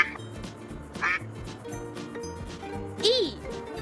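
A cartoonish duck quacks three times in short bursts, spaced out over a simple children's alphabet song with a bouncy backing melody, while a voice speaks alongside.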